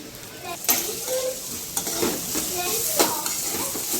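Finely chopped ginger sautés on full gas for Hakka noodles, crackling and sizzling loudly in the pan with spatula stirs and scrapes, close and busy throughout.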